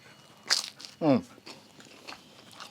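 A crisp bite into crunchy griddle-cooked tortilla dessert nachos topped with cinnamon sugar, honey and caramel sauce, giving one sharp, close crunch, then a short vocal reaction and quieter chewing noises.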